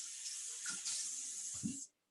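Water runs and hisses steadily as a Thermomix bowl is scrubbed with a brush, with a couple of soft scraping knocks near the end before the flow cuts off.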